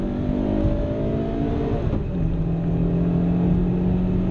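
A Peugeot 106 Rallye's small petrol engine accelerates hard from inside the car, revving up through the range, dipping briefly at a gear change, then climbing again in a steady, loud drone.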